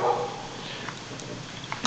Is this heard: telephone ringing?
no